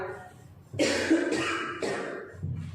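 A couple of harsh, close coughs in quick succession, loud and dry, with a brief quiet moment before them.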